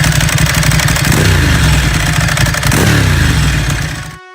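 A Ducati Streetfighter 1098 motorcycle engine revs loudly and close by in two rising surges over a rough, clattering idle, then cuts off abruptly.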